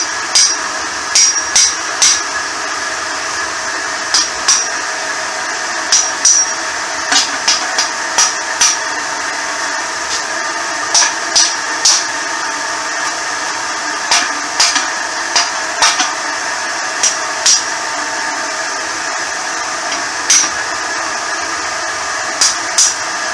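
A hammer taps a Lovejoy coupling into alignment during a DIY engine-to-transmission adapter plate fitting, giving a long series of sharp metallic knocks in irregular clusters over a steady background hum.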